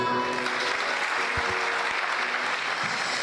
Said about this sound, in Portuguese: Vamos aplaudi-lo.